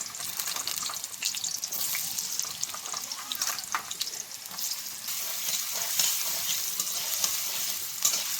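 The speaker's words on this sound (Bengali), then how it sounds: "আলুটা আমি দিয়ে দিচ্ছি তেল গরম হয়ে গেছে" Potatoes fry in hot oil in a kadai, a steady close sizzle that crackles throughout with occasional stirring scrapes and no talk.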